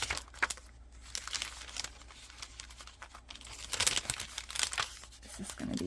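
Scissors cut a scrap of paper for a Miura fold, giving close, crinkly snips and rustling paper crunches in uneven bursts, with no voices.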